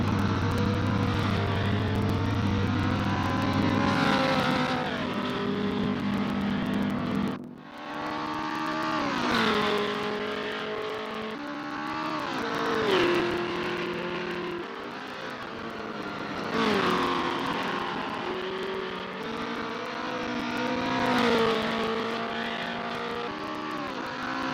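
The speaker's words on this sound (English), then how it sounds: "Its Perry Shaw in T9 is P4, driving a Porsche" Porsche race car in a sim racing game at Laguna Seca: a loud, high engine that repeatedly revs up and drops through gear changes and braking, with one sharp dip, and continuous engine noise throughout.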